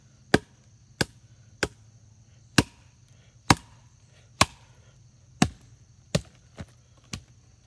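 Hammering on a one-piece Cold Steel knife blade outdoors at camp: about ten sharp, loud metallic strikes at an uneven, unhurried pace with short silent gaps between them, close by.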